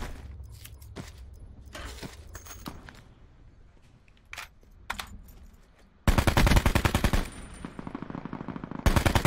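Video game gunfire crackles in scattered single shots and short bursts, then erupts into a loud, rapid automatic machine-gun stream near the end, close and harsh with no talking over it.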